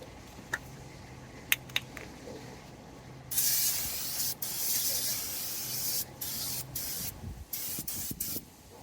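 Spray cleaner blasted onto front wheel bearing parts of a G-body Oldsmobile Cutlass: a few faint clicks, then long loud hissing sprays broken by short pauses, close by.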